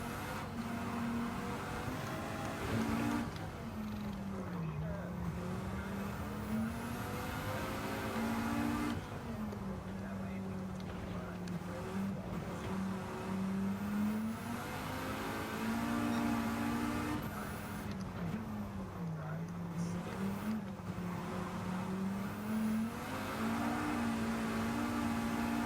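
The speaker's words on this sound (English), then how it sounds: "I'm gonna try and drift the Volvo" A Volvo engine in a racing video game revs up and down through repeated swells while the car drifts, its pitch climbing and dipping in cycles, clear and unaccompanied by talk.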